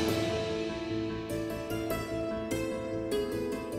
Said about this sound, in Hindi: ये तो संतूर की आवाज है।